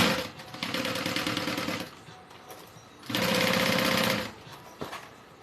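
A sewing machine stitches a backpack near a vinyl panel in two sustained bursts of rapid mechanical chatter, with a brief pause between them and a short tap near the end.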